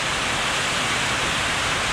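Steady rain falls outside a small house, a dense, even hiss that holds constant from start to finish, with no voices.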